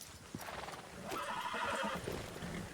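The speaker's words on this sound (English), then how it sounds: "I'm gonna go hitch up my horse." A horse whinnies loudly in a Western roleplay video game, the drawn-out neigh rising over nearby hoof clops and background ambience, close and clear without talking.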